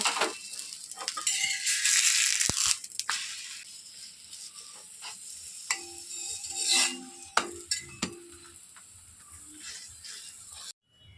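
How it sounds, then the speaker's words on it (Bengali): Parathas frying in a pan in a home kitchen at breakfast, with soft sizzling and scraping, clinks of a utensil and spatula stirring that come and go, close and fairly quiet. "আজকে আমাদের বাড়িতে পরোটা ভাজা হচ্ছে।"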